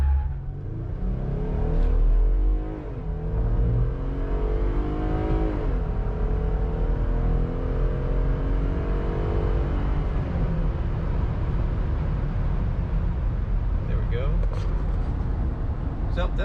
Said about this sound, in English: Okay, we'll do a 0 to 60 run, stock suspension, stock tires. Bring the RPMs up a little bit.